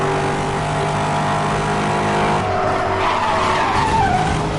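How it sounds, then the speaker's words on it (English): Loud continuous tire skidding and squeal from a car drifting through corners in the Need for Speed Hot Pursuit racing game, with a steady engine drone beneath and no talking. "This car frickin' drifts all over the bloody place."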